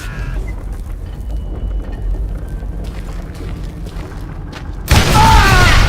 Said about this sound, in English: All it takes is one tiny spark, and boom.